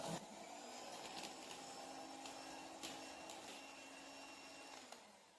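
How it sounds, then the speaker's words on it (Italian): An electric hand whisk beats cream mixed with coffee and cooled dark chocolate, giving a close, steady motor whir with a high whine that runs continuously and eases slightly at the end. "e lavoro con le fruste"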